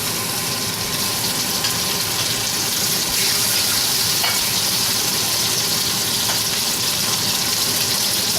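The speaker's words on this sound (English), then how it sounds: "You want to hear that sizzle." Beef tenderloin sizzles in hot oil in a pan, a steady, loud crackling hiss that holds evenly throughout with occasional sharper pops, close to the listener and free of talk.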